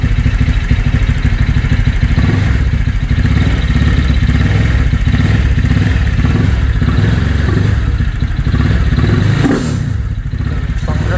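A stock 125cc Honda Click/Vario scooter engine with a dual radiator setup runs steadily and loud throughout, idling with a rough low rumble and occasional rev swells, with no talking.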